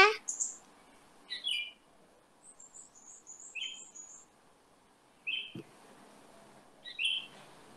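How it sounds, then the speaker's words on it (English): A bird chirps in short, high, scattered bursts, including a quick run of tweets in the middle, fairly close but not loud, over a quiet background with faint low rumble. "Is that a bird chirping?"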